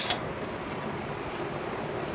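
A loud fan runs steadily in a garage, a constant broadband whoosh filling the space with a brief clatter at the start and no talking.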